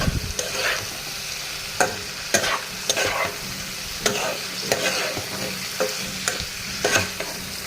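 A spoon scrapes and knocks rhythmically through beef and ring-sliced onions frying in a pan, with regular sharp strokes over a constant sizzle.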